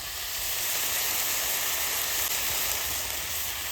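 Red cabbage with salt and turmeric fries in a pan, giving off a steady, close, even sizzling hiss that holds without a break.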